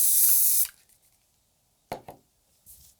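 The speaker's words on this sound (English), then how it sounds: "And then just a light dusting of layering spray over the top just to seal it" A short hissing burst of layering spray misted over static grass on a model scenery base, loud and close, followed by a couple of faint knocks and a brief softer spray puff near the end.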